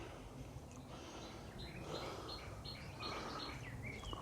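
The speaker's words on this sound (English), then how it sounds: "You probably hear birds chirping" Birds chirp outdoors on a calm day, several high, quick tweets and short calls at a moderate distance over a constant low background rumble and faint insect hiss.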